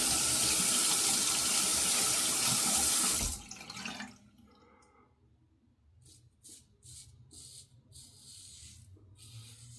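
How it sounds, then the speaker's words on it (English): Kitchen or bathroom tap running to wet a razor before shaving, a loud steady gush that stops after about three seconds, followed by quiet scattered rubbing and handling noises. "Let's get the razor wet."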